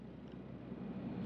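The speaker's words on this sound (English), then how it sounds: "And there's the truck speeding down." A truck in BeamNG.drive speeds along with a steady low engine drone and road rumble, faint and continuous, slowly swelling over a brief moment.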